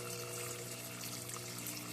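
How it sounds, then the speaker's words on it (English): Water rushing steadily through an aquaponics bell siphon as it drains the grow bed, a continuous quiet gurgling flow with no voices. "Bell siphon kicks in, and then sucks the water all the way out, and then it just fills back up again."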